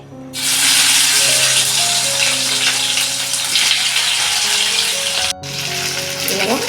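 Okra tipped into plenty of hot oil in a pan bursts into a loud, close, roaring sizzle that holds steady, dips briefly near the end, then continues a little quieter.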